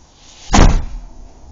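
A door in a mansion slams shut once, a loud, close, booming thud that fades quickly into quiet room tone.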